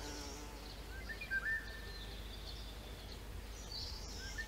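A bee flies near a wild flower, giving a faint buzzing hum that wavers in pitch as it moves, set against a quiet outdoor background.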